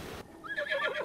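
Horse in the video game Legend of Zelda: Breath of the Wild neighing, a close, loud whinny with a wavering pitch that sweeps up and down over about a second.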